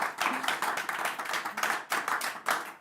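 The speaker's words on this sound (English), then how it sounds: "One more big round of applause for our amazing guest," Small live studio audience clapping for guest Jlin at a composer interview show, a modest group applauding in uneven bursts with distinct individual claps, close and fairly quiet.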